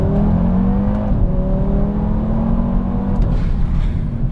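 An Audi RS3's 2.5-liter inline five-cylinder engine revs steadily and loudly up close, its tone rising and settling in a continuous drone with a brief shift partway through.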